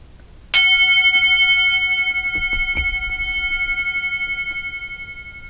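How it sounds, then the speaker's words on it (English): A single meditation bell is struck once, ringing out clearly with a bright, pure tone that decays slowly over several seconds, with a few faint soft knocks in the background. "I'm going to ring the bell."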